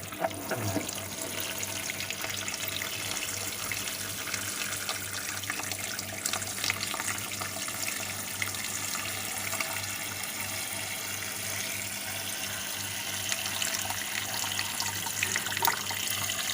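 Tap water runs in a steady, even stream into a basin to soak cassava for a traditional snack, continuing throughout with no one speaking.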